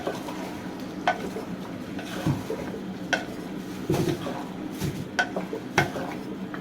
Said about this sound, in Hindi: तो देखिए थोड़ी देर हमने आलू फ्राई किए हैं